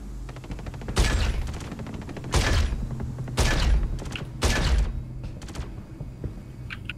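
Four loud bursts of gunfire erupt about a second apart in the video game Star Citizen, fired from a ship's cargo bay over a constant low mechanical hum.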